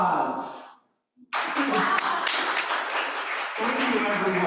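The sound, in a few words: applause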